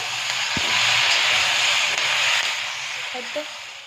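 Tomatoes dropped into a hot kadhai while making dum aloo give off a steady, fairly loud broad hiss and sizzle that swells and then eases, with a faint thump near the start and brief soft voices near the end.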